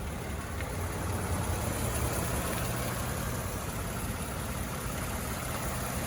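A 2014 Toyota Sienna XLE engine idles smoothly and continuously, a steady low rumble heard alone and moderately quiet, with no speech.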